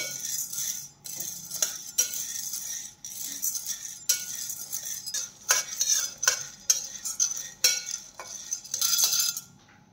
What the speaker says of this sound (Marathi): मंद आचेवरती आपल्याला ही खमंग अशी हलवत एकसारखी भाजून घ्यायची आहे